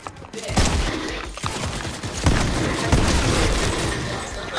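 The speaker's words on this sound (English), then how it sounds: "Who's shooting at me?" Rapid gunfire in the video game Fortnite, a dense, loud stream of shots and booms that runs almost continuously through the moment with no pauses.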